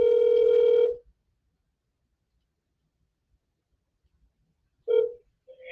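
Ringback tone on an outgoing phone call: a steady electronic ring lasting about a second, several seconds of silence, then the next ring starting, clear and close through the handset.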